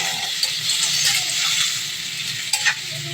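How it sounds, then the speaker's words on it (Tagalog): Tomatoes cooking in a pan for sarsiadong bangus, a steady loud sizzle close by with a few scattered clinks of stirring and no talking. "So, lutuin natin yung kamatis. Gusto ko yung kamatis na lutong-luto, yung lamog na lamog."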